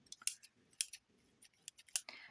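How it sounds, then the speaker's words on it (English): Zigzag scissors cut through fabric in a run of sharp, crisp snips, about five or six clear cuts spaced irregularly and heard up close in a quiet room. "I used a zigzag scissors"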